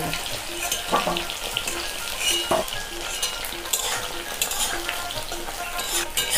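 Malabar spinach stalks fry in oil in a pan with a steady close sizzle and crackle, broken by occasional stirring scrapes, and no one speaks.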